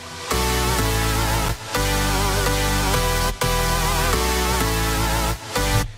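Synth stab samples from the Vengeance library in a bass house track with reverb added, dense loud chord hits in a repeating rhythm, gaps partly filled by a washy reverb tail.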